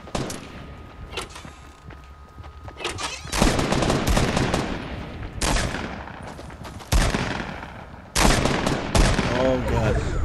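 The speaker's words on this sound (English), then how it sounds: "I'm being shot at though." Gunfire from Fortnite on PS4 crackles in several long automatic bursts, loud and close, separated by short lulls, with some talk mixed in.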